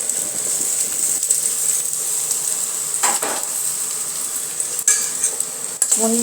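Potatoes and onions sizzle steadily in a frying pan while a spoon or spatula stirs them, with a constant hiss and occasional scrapes and clinks of metal against the pan.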